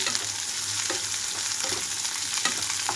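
Close, continuous sizzling of ivy gourd frying in a hot tempering, with soft stirring scrapes throughout and no talking.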